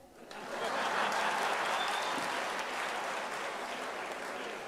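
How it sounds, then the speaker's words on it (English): Applause at a university's academic-year opening ceremony swells quickly after a quiet start into a broad, steady clatter of many hands, with faint chuckles mixed in, gradually easing. "You can clap."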